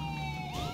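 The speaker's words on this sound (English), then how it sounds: "It's funny watching three ambulances roll somewhere." An ambulance siren in the video game State of Decay 2 sounds briefly, its steady wailing tones sweeping upward near the end, fairly loud and alone.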